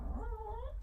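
Dogs give a short, close whining yelp with a rising and falling tone, a single brief cry lasting under a second.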